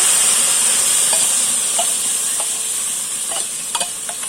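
Jackfruit seed curry being stirred in a pan, a steady sizzle with soft, scattered scrapes of the spoon that grow a little busier toward the end; no voices.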